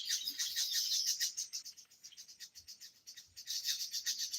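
Dense chorus of small birds chirping at dawn around 5 o'clock, a continuous high, shimmering twitter with rapid repeated notes, steady and moderately distant, easing slightly midway before swelling again.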